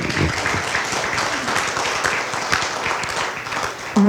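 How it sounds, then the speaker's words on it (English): A crowd at a 50th wedding anniversary celebration applauds with dense, steady clapping for about four seconds, fading slightly before a voice begins at the end. "Yes, you may applaud that."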